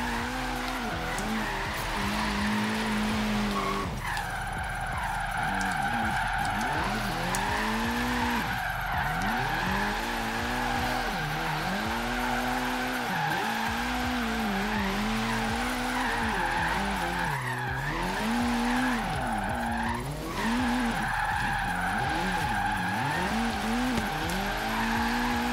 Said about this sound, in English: Oh, this thing loves to spin its wheels.